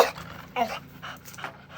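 A dog pants close by in quick, breathy puffs, several short rhythmic breaths over a couple of seconds.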